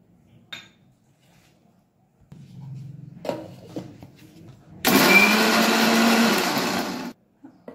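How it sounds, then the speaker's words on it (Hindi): After a few clinks and some low rumbling, a blender whirs at full speed for about two seconds, blending custard apple with milk for a shake. It sounds loud and close, then stops abruptly. "पहले थोड़ा सा दूध डाल के ब्लेंड कर ले"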